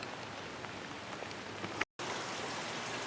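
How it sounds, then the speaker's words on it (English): Steady rain falls and patters on surfaces nearby, a dense even hiss broken only by a brief gap of silence partway through. "It's raining again!"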